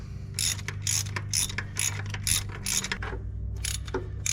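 A ratchet wrench works on a starter bolt of a 2011–2015 Honda Civic, giving about eight loud, close bursts of rapid clicking at a steady rhythm over a low background hum, with no talk.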